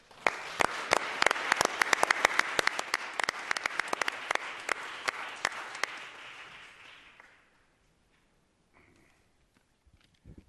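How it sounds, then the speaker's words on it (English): At a city Board of Supervisors meeting, the chamber audience applauds for about seven seconds. Sharp individual claps ring out above a steady wash of clapping before it fades to near silence. "So join me in big round of applause for Al Perez."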